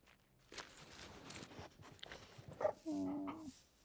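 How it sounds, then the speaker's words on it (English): A dog in the video game Lorelei and the Laser Eyes gives a short whimpering, whining call near the end, after soft footstep-like taps and light background sound. "Hi, dog."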